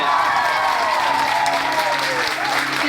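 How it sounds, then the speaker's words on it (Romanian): Audience applause fills a pageant hall right after a Miss title is announced, steady dense clapping with faint cheering throughout. "Aplauze!"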